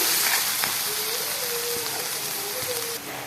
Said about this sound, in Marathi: घेऊ छान असं परतून